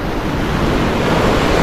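Sea waves wash against the shore in a continuous loud roar, with heavy wind buffeting the microphone.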